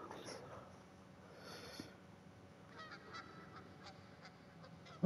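Goose-like honks play on the Crash Team Rumble video game loading screen, a few short nasal calls over a faint background with brief ticking sounds.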